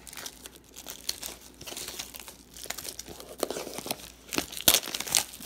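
Plastic packaging on a Sailor Moon Crystal Season 3 set crinkles and crackles in close, irregular bursts as it is torn open during unboxing, with louder sharp snaps toward the end and no talking.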